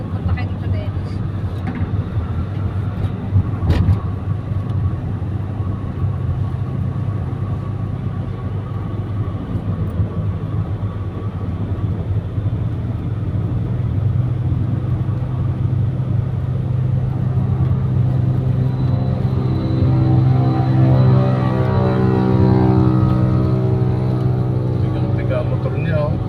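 A 125cc motorcycle engine strains and drones steadily while riding, its pitch climbing toward the end, with people talking over the constant road noise.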